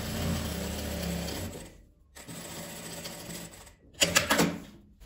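Sewing machine stitching lining fabric face to face, a close, steady mechanical whirring run that pauses twice briefly before starting again with louder bursts at the end.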